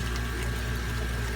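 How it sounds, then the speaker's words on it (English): Water drains steadily from a home fish tank, a continuous rushing, gurgling wash at constant level with no pauses or talk. "Let the water drain."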